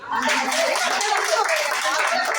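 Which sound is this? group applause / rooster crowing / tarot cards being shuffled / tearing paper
group applause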